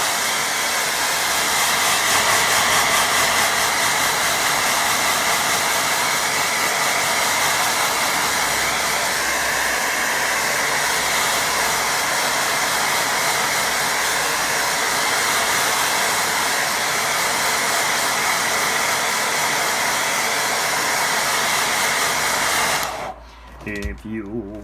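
A hair dryer blows steadily and loudly on a watercolour painting for about 23 seconds, a continuous broadband roar that cuts off abruptly near the end, with faint talk underneath.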